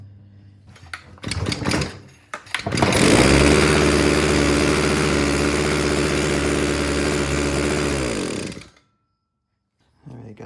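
A Predator earth auger's small engine, primed for running, catches and roars at a steady, loud, buzzing idle for about six seconds before being killed abruptly, with brief clatter and handling noises before it starts.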